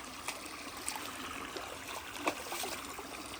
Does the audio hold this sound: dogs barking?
no